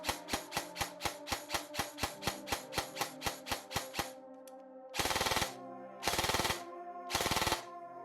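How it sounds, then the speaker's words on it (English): A Specna Arms SA-X02 EDGE airsoft gun shoots in binary mode, starting with an even run of about seventeen rapid snapping shots, then three separate short full-auto bursts with pauses between them. "In this mode, the shot will be fired every time you press and release the trigger."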